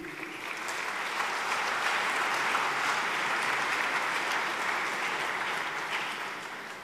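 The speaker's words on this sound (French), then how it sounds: "je vous demande de l'applaudir" Sustained applause from a dinner audience at a French Yad Vashem support committee gala, a dense steady wash of many hands that swells in, holds evenly for several seconds, then begins to taper.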